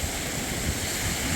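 Ocean waves at the beach on Plum Island, Massachusetts, a continuous broad surf roar mixed with wind rumble against the microphone.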